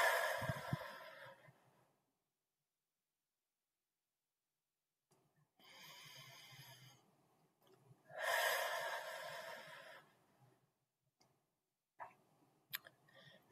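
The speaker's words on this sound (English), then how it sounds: "So go ahead and do two deep breaths." Slow, deep breaths are drawn in through the nose and let out in a quiet, close room. There are three soft, airy swells separated by long near-silent gaps, and faint clicks follow at the end.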